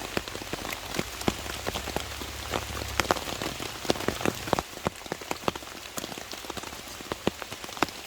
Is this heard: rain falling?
yes